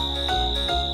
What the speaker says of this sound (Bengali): ঝিঝি পোকার ডাকটা তুমি শুনতে পাচ্ছ?